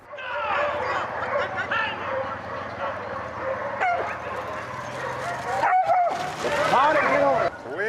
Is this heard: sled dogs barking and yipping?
yes